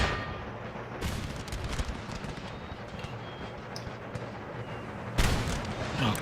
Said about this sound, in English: let's turn off the artillery